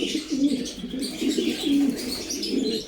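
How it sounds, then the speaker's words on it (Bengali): Racing pigeons coo repeatedly and close by, soft throaty calls overlapping in a steady rhythm, with faint chirps in the background. "রেসার কবুতরের জোড়া করলাম"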